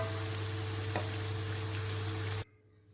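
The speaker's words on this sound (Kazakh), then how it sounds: "Барлығын қуырып шығасыздар." Sliced eggplant sizzles and crackles steadily in a hot frying pan for a few seconds, loud and close, then cuts off abruptly to near quiet.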